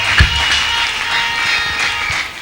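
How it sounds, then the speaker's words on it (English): Church congregation clapping during a testimony service, a brief burst of soft, scattered applause with a faint crowd murmur. "Clap. Don't be jealous."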